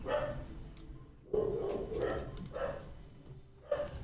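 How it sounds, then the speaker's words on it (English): Several dogs in a RimWorld game howling and yelping in repeated drawn-out bursts, a mournful chorus rising and falling, moderately close and without talk. "we'll listen to the dogs sing the song of their people in the background"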